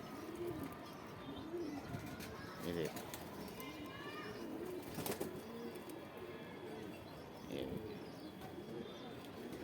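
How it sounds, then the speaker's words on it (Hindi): Large Punjabi breed pigeons, a flock of breeding pairs and young high-flying birds in a loft, coo in soft repeated rolling phrases nearby, with occasional wing flutters and someone briefly speaking. "पंजाबी सब बड़े कबूतर हैं"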